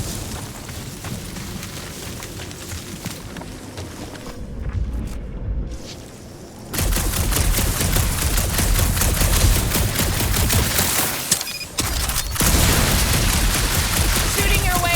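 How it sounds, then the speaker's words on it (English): Sustained, dense gunfire from the Marvel's Guardians of the Galaxy video game, loud and continuous, with a brief drop mid-way before the volley resumes with booming impacts layered over a thick game soundtrack. "Shooting your way out of every problem again, Peter?"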